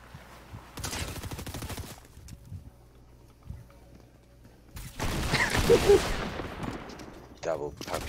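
Shotguns fire in the Fortnite video game, a burst of sharp blasts early on and a heavier volley later that trails off, with quiet gaps between and some game noise and voices around them.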